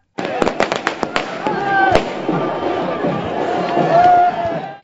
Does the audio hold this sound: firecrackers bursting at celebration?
yes